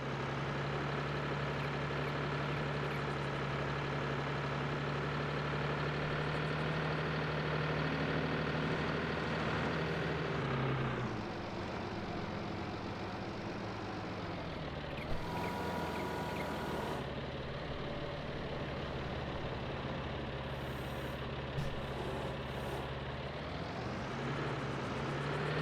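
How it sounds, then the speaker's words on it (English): A small tractor in Farming Simulator 22 drones along steadily, its engine note shifting pitch partway through and again near the end, a continuous, fairly loud mechanical hum with no talking. "It's a really, really nice little tractor."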